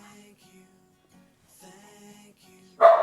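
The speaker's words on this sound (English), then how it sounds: "the dogs are barking" Dogs in a home bark in a sudden loud burst near the end, after a quiet stretch with faint background music.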